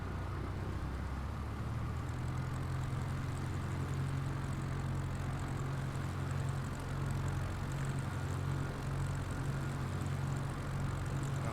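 A simulated airliner taxis in Microsoft Flight Simulator with a steady, continuous engine drone and low hum that stays level throughout, with no talking.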